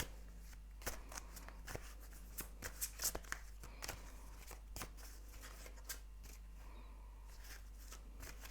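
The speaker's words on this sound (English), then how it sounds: "I'm gonna shuffle and see what the cards have to say" Tarot cards shuffled by hand in a run of soft, crisp riffling flicks and slaps over about eight seconds, close and fairly quiet against a steady low hum.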